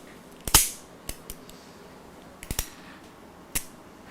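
Small metal clicks and snaps come from a part being rolled back into a 4-inch-barrel Ruger New Vaquero .357 revolver, a handful of sharp, close taps spaced irregularly over a few seconds.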